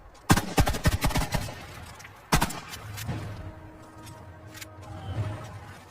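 Sound-effect gunfire in an animated battle between black and red ants facing a scorpion: two sharp bursts of rapid shots, each a cluster of loud cracks, followed by a low rumbling ambience.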